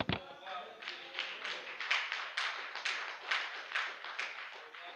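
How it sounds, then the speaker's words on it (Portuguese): A church congregation at a theology gathering claps in a steady, rhythmic pulse of about ten beats, moderately close and unaccompanied by speech. "Uma salva de palmas a ele porque ele é o mesmo."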